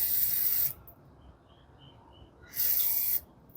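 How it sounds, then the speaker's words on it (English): MAF sensor cleaner is sprayed onto a Toyota Corolla's mass airflow sensor in two short, loud hissing bursts, with near silence between them. "just give it 1 or 2 bursts of spray"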